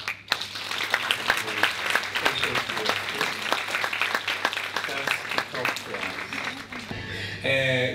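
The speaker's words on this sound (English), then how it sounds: "Can we, as he comes, give him a round of applause?" A seated audience at an Eastern Cape Department of Education gathering claps for the head of department, a rattling stretch of applause mixed with voices that thins out near the end.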